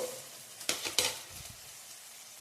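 Onions frying in a pan for akki tari upma: a soft steady sizzle with two or three quick stirring scrapes and clinks early on, close and moderately quiet, no speech.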